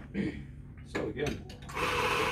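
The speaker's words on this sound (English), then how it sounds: "grind the beans" Coffee grinder grinding beans for an espresso drink, a loud steady grinding that starts near the end after brief nearby clatter and voices.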